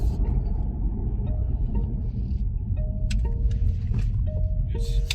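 A BYD Seal electric car accelerating and turning, with a steady low road rumble and tyre noise filling the cabin, a faint whine rising and holding in steps, and a few brief clicks near the end.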